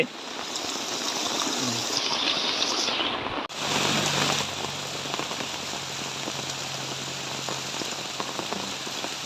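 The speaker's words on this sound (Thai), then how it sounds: "น้ำไหลแรงพี่น้องน้ำป่าทะลักแล้วนุ่น" Heavy rain pours down with rushing flash-flood water, a dense steady hiss that continues throughout, close and loud, with a brief dip partway through.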